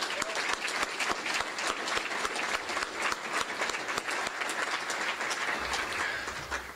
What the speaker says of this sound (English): I want to give every one of them a big round of applause